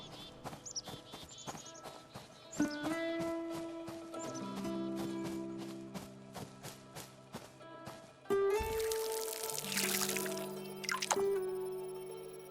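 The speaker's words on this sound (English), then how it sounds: "After that, I watered the tomatoes as well." Watering plants in the video game Fractured Blooms: a run of regular soft ticking steps with musical tones, then a louder watery splash and pour near the end, all without talk.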